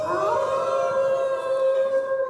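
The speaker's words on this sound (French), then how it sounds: "Des hurlements de loups se font entendre." Wolves howling as a sound effect on a stormy nightfall scene, a long rising and then held tonal howl with overlapping voices, loud and alone.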